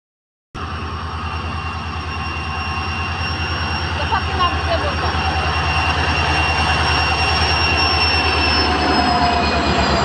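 A train runs through a railway station with a steady, loud rumble and rolling wheel noise that begins abruptly and continues throughout, with a faint squeal partway through.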